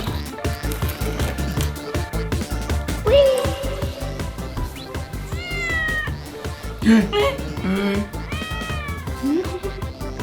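A cat meows several times while meeting a goat, its cries rising over steady background music and occasional voices.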